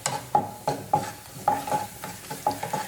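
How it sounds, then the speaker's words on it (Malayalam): Garlic and ginger being sautéed in hot coconut oil, with a spatula scraping and stirring the pan in a steady rhythm of sharp strokes over a soft background sizzle, close and clear with no talking. "ഇനി നന്നായിട്ടൊന്ന് വഴറ്റിയെടുക്കാം."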